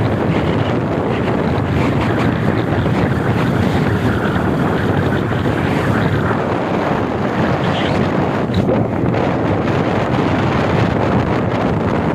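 A boat travelling on a river near Bijapur, heard as a steady, loud, close rush of engine and water noise mixed with heavy wind buffeting on the microphone, continuous throughout without speech.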